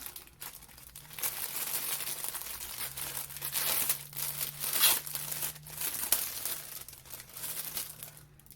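Thin plastic bag holding parts of a Suyata cartoon egg-style Titanic model kit crinkles and rustles as it is handled, a steady close-up crackle lasting several seconds with small louder crunches.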